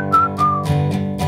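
A person whistles a short melody, clear and close, with a few sustained notes in a steady rhythm and no talking over it.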